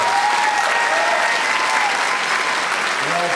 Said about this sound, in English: Can I get one more big round of applause for this?